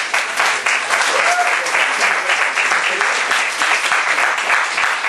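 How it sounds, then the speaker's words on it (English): Dense, steady applause from a live audience at a band's opening night event, many hands clapping continuously and loudly with no pauses throughout. "Clap."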